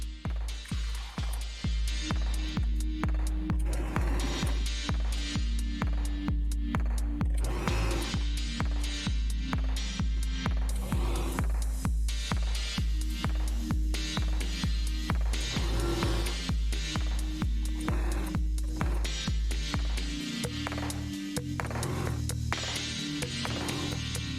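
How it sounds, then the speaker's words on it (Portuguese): A sewing machine stitching around the waistband of a gathered skirt, a loud, steady mechanical whir with fast regular needle pulses running almost without pause, shifting to a lower hum briefly near the end. "E agora eu vou costurar em toda a volta do cós."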